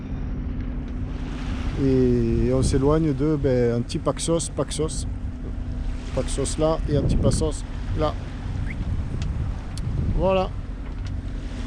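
A sailboat motors across open sea off Paxos in Greece, its engine droning steadily beneath wind buffeting the microphone, while someone talks over it.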